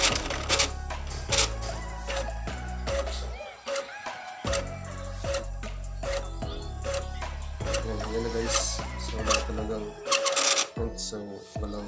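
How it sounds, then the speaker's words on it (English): An inkjet printer runs a test page, giving repeated mechanical whirs, clicks and carriage passes in a steady rhythm. It is fairly quiet and close. "subukan natin itong printer kung mag-print ba itong printer na ito"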